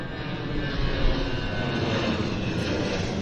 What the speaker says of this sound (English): The first of which is Air Canada Flight 295 from Winnipeg. It's an A321.